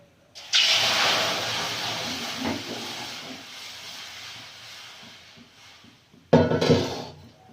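Water poured into a hot wok while making carrot halwa, a sharp hiss that bursts up and slowly fades, followed by a second loud sizzle near the end.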